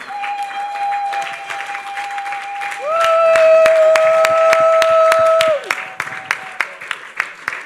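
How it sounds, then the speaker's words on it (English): Audience applause fills the hall at the Caribbean Global Awards 2023 ceremony, with dense steady clapping. A sustained electronic tone rises midway and then cuts off, and the clapping thins to a few scattered claps at the end. "Please keep the applause going."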